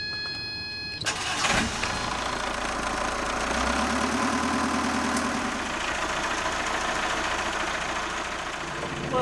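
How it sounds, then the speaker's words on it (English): A boat engine cranks and catches after a sharp click, then runs with a steady rumbling drone that holds for several seconds, fairly close, its gear system failing. "I'm going to turn this engine on now and see if we get some forward motion"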